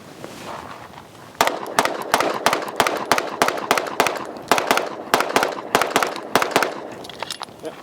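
SIG Sauer P365 AXG Legion pistol fired outdoors in a rapid string of about twenty loud, sharp shots, closely and fairly evenly spaced with brief pauses between groups.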